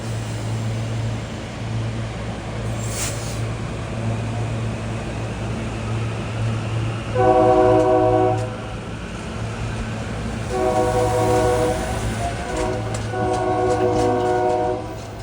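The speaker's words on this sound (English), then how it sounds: "Let's listen to this Silver Liner 5 make sweet music here in North Wales with all the grade crossings" A SEPTA Silver Liner 5 electric multiple-unit train in North Wales sounds several loud multi-tone horn blasts for grade crossings over a steady engine rumble, with the later blasts coming in two longer bursts.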